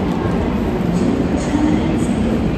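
Train at a station platform in Sydney, a loud continuous rumble of carriages rolling close by with steady rail noise and no talking.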